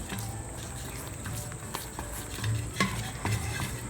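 Ghee mixture for Mysore pak being stirred with a whisk in a hot pan, a steady soft scraping and stirring texture with faint sizzle, close and continuous, no talking.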